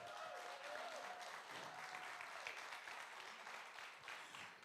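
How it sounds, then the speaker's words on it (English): An audience at a theatre media launch gives a warm round of applause, a steady, moderately distant patter of many hands clapping without a break. "Can you give them a warm, big round of applause?"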